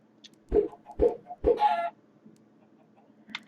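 Minecraft video game chickens give three evenly spaced, clipped clucks followed by a short buzzy squawk, then a faint chirp near the end, close and clear over a quiet background.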